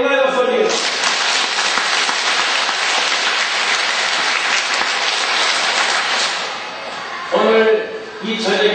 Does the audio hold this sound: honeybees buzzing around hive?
no